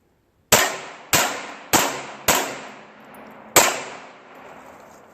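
Five sharp pistol shots ring out as bullets punch through steel barrels. Each is a loud metallic clang with a ringing decay; the first four come at a steady pace and the last follows after a longer pause.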